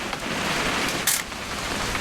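Steady rain falls in the game What Remains of Edith Finch, a continuous wash of patter with one brief brighter splash, with no talk over it.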